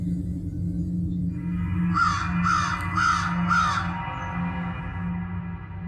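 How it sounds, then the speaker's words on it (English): Crows give four harsh caws in quick, evenly spaced succession over a low, steady background hum. The calls are fairly close and clear, then quiet fades back to the hum. "With that, the crows took flight and the man disappeared."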